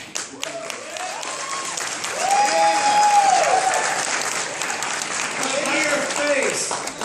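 A large crowd applauds at a New York Comic Con panel on The Walking Dead Telltale Series, loud sustained clapping with cheers and whoops, swelling and easing across the whole stretch.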